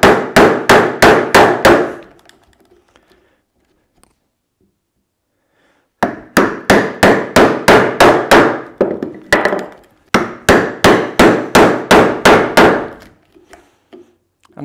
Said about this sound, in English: just keep taking cuts, and you'll notice the chisel will keep getting deeper with each successive one